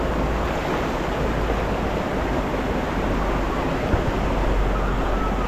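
A loud, steady rush of strong river water roars without pause, broadband and close, with no voices over it.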